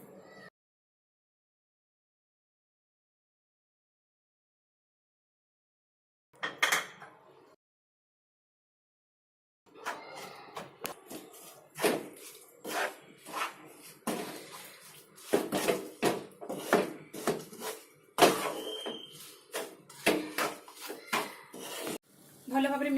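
Besan flour and sugar powder are mixed in a pan for ladoo, heard as a long run of scraping and clinking utensil strokes against the pan after a silent opening and a single early clatter.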